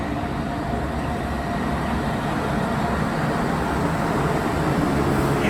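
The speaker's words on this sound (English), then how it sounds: "Wait, I hear a train." A PATCO Speedline train rumbles at Collingswood station, a steady broadband roar of rail wheels and motors that holds fairly loud and constant throughout.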